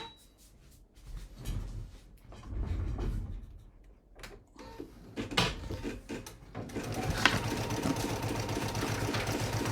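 Handling noises and clunks from an embroidery machine being set up give way to steady, fast mechanical stitching in the last few seconds, heard close and fairly loud.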